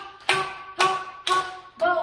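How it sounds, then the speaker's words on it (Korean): Four sharp palms-together claps in a slow, even rhythm, each a crisp broadband slap with a short ringing tail, close and fairly loud with no talking. "합장박수를 치면서 혈액순환이 잘 되도록 움직여주는 거다"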